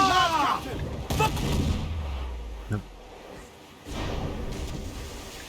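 Ship cannons fire in an Assassin's Creed 4 naval battle, several heavy booming blasts with rumbling tails, while crew voices shout over the gunfire.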